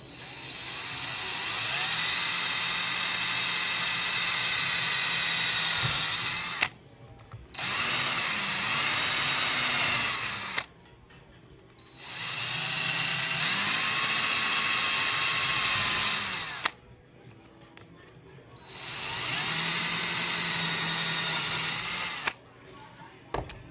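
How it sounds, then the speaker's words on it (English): Power drill boring through copper and aluminum sheet for a rivet, four sustained whining runs of a few seconds each separated by short pauses, close and loud, with faint speech. "just a matter of getting the drill bit centered in there"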